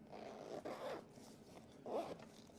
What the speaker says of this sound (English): The zipper pulls very nicely